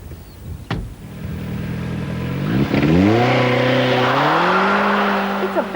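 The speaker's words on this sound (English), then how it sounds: "It's a very quick car, this Turbo Lotus, and it feels it, especially in the vivid acceleration" A Turbo Lotus sports car accelerates hard, with a loud engine note climbing steadily in pitch through the gears, heard from close by with no talk.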